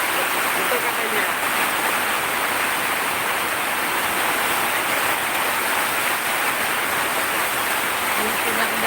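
Rain falls steadily as a dense, even hiss that stays loud and constant throughout, with no voices standing out.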